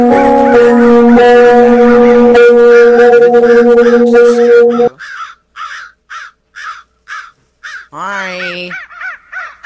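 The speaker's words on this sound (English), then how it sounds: "Jeez, birds, shut up, please." Birds caw repeatedly in a Rec Room game scene. A dense layer of game sound comes first and cuts off sharply. Then the calls come as a run of evenly spaced, loud squawks, with one longer warbling cry in between and a brief spoken greeting.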